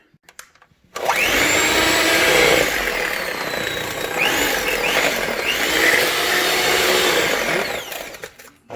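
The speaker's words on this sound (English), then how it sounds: "I got my blender ready to go. So we're going to mix all those ingredients together." A blender starts abruptly and whirs loudly and steadily for several seconds, its motor pitch wavering slightly as it churns thick cookie dough.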